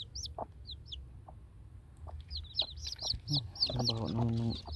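Hens clucking on a chicken farm with baby chicks nearby, in repeated short calls close by and growing busier toward the end, with light background noise and no talk.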